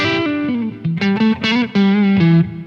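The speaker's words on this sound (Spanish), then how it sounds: "solo una reverb, una pequeña reverb, hace la diferencia" Electric guitar with a small reverb, a short melodic phrase of sustained, slightly distorted notes ringing clearly with a light ambient tail, played alone.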